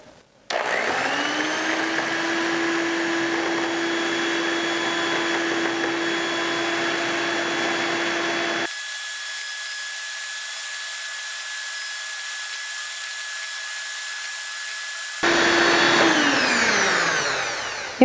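Electric mixer whipping cream into chantilly at low speed, a steady motor whine that holds through a change in tone, then rises near the end, close and loud with no talk.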